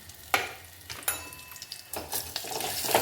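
Tempering for tomato rasam sizzles in a pan as turmeric and chili go in, with crackling bursts and soft scrapes of stirring that come and go at close range.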